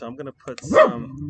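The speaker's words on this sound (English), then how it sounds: "Excuse my dog. He's out here with me." A pet dog barks outdoors, a few short yips mixed in with someone talking steadily nearby while he makes slime.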